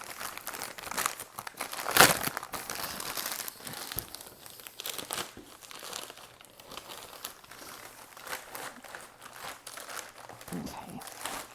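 Plastic packaging around a shipment of books crinkles as it is opened without scissors, with a sharp tearing burst near the start followed by ongoing rustling and handling noises, a voice speaking intermittently over it.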